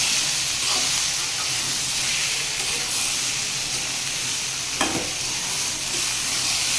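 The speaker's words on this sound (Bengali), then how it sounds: "কষাচ্ছি।" Mixed vegetables sautéing in a hot pan, a steady loud sizzle and hiss throughout with occasional scraping stirs, including one sharper scrape near the end.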